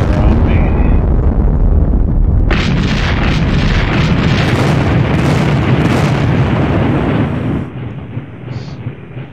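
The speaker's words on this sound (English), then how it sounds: "Got a little bit of artillery that can relieve some pressure on me." Artillery barrage in John Tiller's Sealion '40 wargame, a dense, continuous roll of loud low booms and blasts that swells after the first couple of seconds and fades toward the end.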